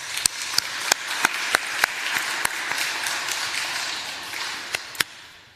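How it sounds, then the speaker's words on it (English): Applause at an annual general meeting, scattered claps from a small audience over a diffuse murmur of room noise. "we could give them a round of applause"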